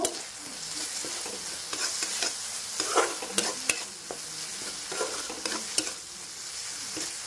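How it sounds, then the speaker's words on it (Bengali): Potatoes and soybean curry stirred in a frying pan, a steady sizzle with repeated scraping strokes of the spatula, close and clear without talk. "এবারে নাড়িয়ে নেব।"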